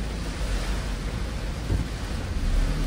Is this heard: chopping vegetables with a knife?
no